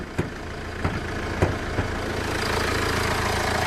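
A 2013 Kia Carnival R 11-seater diesel engine idles with a steady, loud rumbling drone and a few periodic knocking ticks, heard up close with the hood open.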